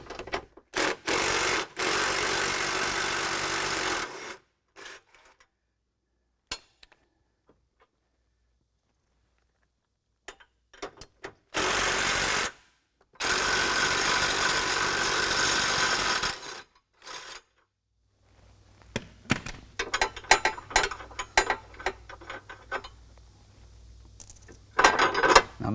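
An impact wrench buzzes in several loud bursts of a few seconds each as it removes front bumper bolts on a 2022 Jeep Wrangler JL, separated by silences and followed by clanking and rattling of parts.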